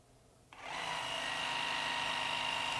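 A Makita XVJ01Z 18V brushless jig saw starts up after a moment of quiet, then holds a steady, smooth, high motor whine close to the microphone.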